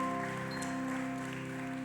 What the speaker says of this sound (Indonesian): Sebelum duduk bisa tepuk tangan yang meriah untuk Tuhan kita Yesus Kristus